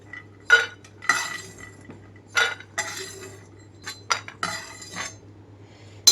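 Fried crispy pieces are lifted onto a plate, giving a series of separate clinks and scrapes of a utensil against the plate and pan, spaced irregularly in a quiet room with no talking.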